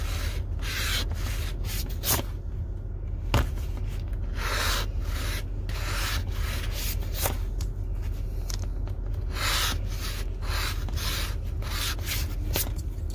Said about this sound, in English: Sloppy scratching.